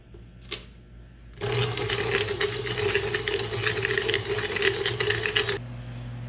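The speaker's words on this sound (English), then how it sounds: "my butter and sugar has been creamed" An electric hand mixer whirs steadily as it creams a stick of butter with sugar in a bowl for banana bread, starting after a short quiet stretch and running loud and continuous for about four seconds before stopping.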